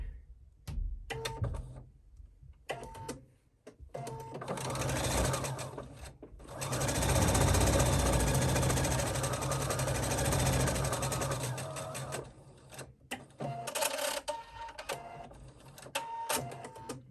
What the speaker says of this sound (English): I like to do this on my sewing machine